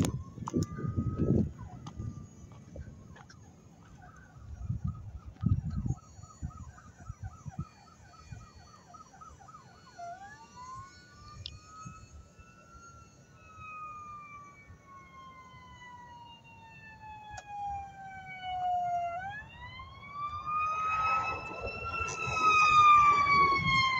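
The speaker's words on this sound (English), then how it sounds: "The sirens aren't for me." Emergency vehicle sirens wail at a distance near an airfield where a model plane is flying, rising and falling in long sweeping tones that grow louder toward the end over steady outdoor background noise.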